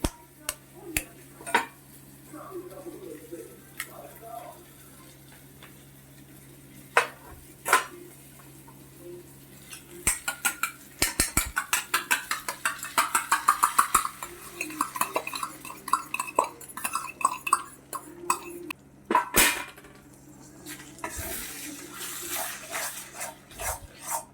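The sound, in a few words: cracking an egg into a pan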